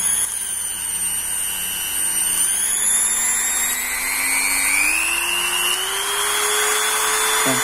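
An APR mini glass grinder drill runs steadily at close range, its high whine climbing in pitch in steps as the speed is turned up, with no talk over it.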